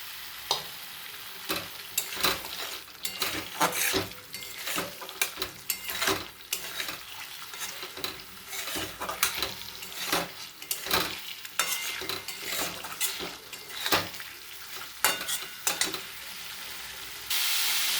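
Egg sizzling in hot oil in a pan for an egg curry, with steady crackling fry and repeated scraping stir strokes throughout, close and fairly loud with no talk.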